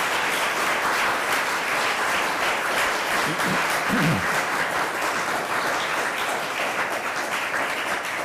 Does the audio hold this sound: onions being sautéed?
no